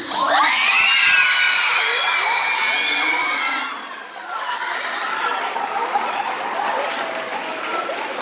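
A school drama awards audience erupts in loud cheering, whoops and applause, with children's shrieks dominating at first before easing into a steadier clapping crowd.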